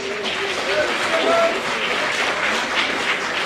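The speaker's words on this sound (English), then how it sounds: "let's give them a big round of applause" Audience applause at a Christmas brunch event, a steady wash of clapping from a crowd that holds evenly throughout without any talk over it.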